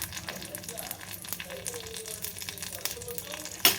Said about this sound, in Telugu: నెయ్యి ఇలా కాగిన తర్వాత జీలకర్ర వేయాలి